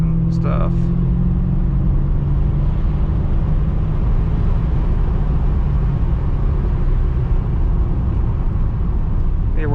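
A Ford Thunderbird accelerates on a flat road with overdrive off, heard from inside as a steady, heavy engine rumble and road noise that hold level for the whole stretch.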